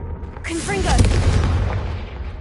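A Confringo fire spell explodes in the Hogwarts Legacy video game, a loud booming burst with a rumbling tail, while a few tonal spell chirps flicker at its start.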